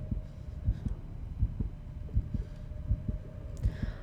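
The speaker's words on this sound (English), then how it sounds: "the sound of your heartbeat in your ears is what overtakes you" A steady heartbeat pulses through a tense scene in the horror video game Call of Cthulhu, its low, regular double thumps close and prominent over a faint hum, with no talk.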